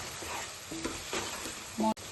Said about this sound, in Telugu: ఒక స్పూన్ సాల్ట్ వేసుకుని ఉల్లిపాయలు మగ్గబెట్టుకుందాం రెండు నిమిషాలు